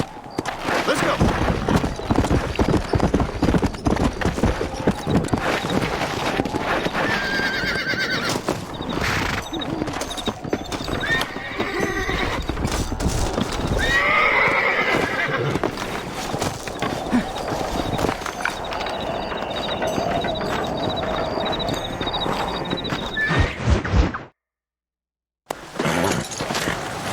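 Horses in Red Dead Redemption clip-clop in dense, continuous hoofbeats with occasional neighs and whinnies, loud and close for most of half a minute, dropping out briefly near the end.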